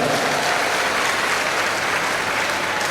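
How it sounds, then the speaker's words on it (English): A large crowd of newly admitted university students applauds at a matriculation lecture, a loud, dense, continuous roar of clapping filling the whole stretch. "A round of applause for yourself."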